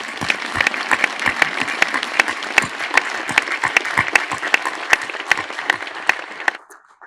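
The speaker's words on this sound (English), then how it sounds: "let's take a moment to give all those loved ones here a round of applause" A large graduation audience at a military war college ceremony applauds loved ones in a sustained, dense wash of clapping with some louder individual claps, fading out at the end.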